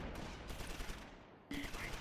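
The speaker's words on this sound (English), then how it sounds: "firing the mortars now, save them" Mortar fire in the Close Combat wargame comes as muffled bursts of gunfire-like blasts, the first stretch fading out before a sharp new burst kicks in, all at low level.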